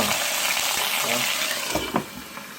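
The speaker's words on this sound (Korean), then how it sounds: "지글지글지글지글지글 하니까 바로 담그고" Vinegar-treated surfperch sizzles as it fries in a hot pan, giving a steady close crackle with a few faint clinks and stirring sounds.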